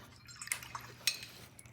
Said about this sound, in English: Rinse my brush